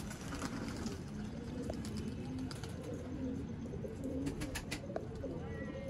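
Sialkoti pigeons coo in a loft, repeated low cooing calls over a steady murmur of background noise, with occasional sharper flutters and clicks.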